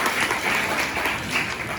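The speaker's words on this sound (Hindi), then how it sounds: "क्लैप करिए मैम के लिए" An audience claps steadily for a woman who answered a question at a health and nutrition session, a dense, even burst of applause from a roomful of people.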